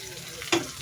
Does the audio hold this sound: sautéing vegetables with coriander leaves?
yes